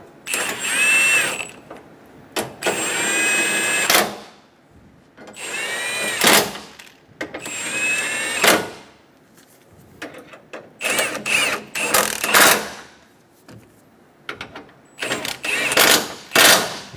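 A power tool drives the side bumper bracket bolts tight on a 2014-2018 Chevrolet Silverado 1500: repeated whirring bursts of a few seconds each, separated by short pauses, then quicker, choppier runs near the end, close and loud.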